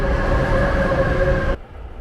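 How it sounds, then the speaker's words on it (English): A train passes close by with a loud, steady rumble of rail noise that carries on for about a second and a half and then cuts off sharply, leaving only low background hum. "But hear that train?"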